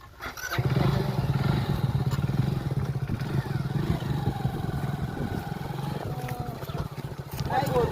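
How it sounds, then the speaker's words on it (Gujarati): An engine chugs and roars steadily close by, with rattling machinery and people talking over it. "આ તો ટ્રેક્ટર કહેવાય"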